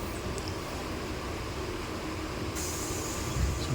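A MEMU passenger train runs steadily between Vijayawada and Rajahmundry, heard from inside as a dense, continuous rumble and rattle of wheels and carriage with no pauses.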